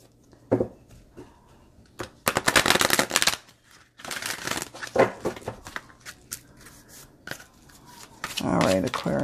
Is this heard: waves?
no